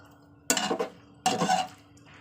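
A metal spatula scrapes and knocks inside a cooking pot in two short bursts of clinking and scraping, close and fairly quiet, with a pause between them.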